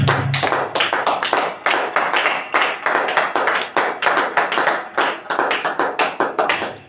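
A church congregation claps together in steady, dense applause with rhythmic surges, loud and close, with no voices over it.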